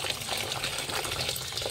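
Water runs steadily into a container of rice being soaked for chocolate moron suman, a soft continuous gushing pour at close range with no talking.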